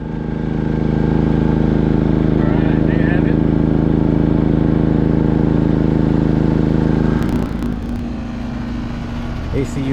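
A DK9200iETC-M 9200W tri-fuel generator drones loudly and steadily while powering AC units, its tone shifting near the end as the load changes, with a voice speaking briefly over the hum.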